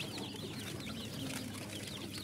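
A crowd of day-old chicks at a poultry farm peep constantly, a dense, high chirping chorus that fills the space evenly and close by.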